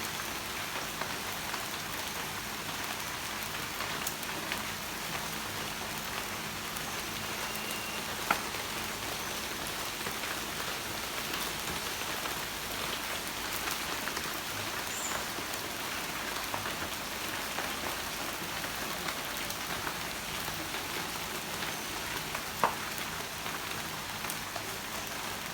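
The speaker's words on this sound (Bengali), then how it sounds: "হঠাৎ করে বৃষ্টিটা নামলো, ভালোই লাগতেছে বৃষ্টিটা নামাতে।" Sudden early-morning rain falls steadily on surfaces outdoors, an even, continuous patter with occasional louder drops and no voices.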